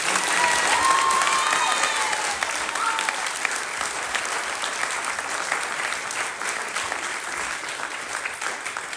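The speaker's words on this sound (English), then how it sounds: "Can we get another big round of applause?" Sustained applause from a large crowd after a brass band performance, steady and loud throughout, with a few faint cheers and whistles early on.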